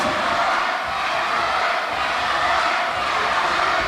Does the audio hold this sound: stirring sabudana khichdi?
no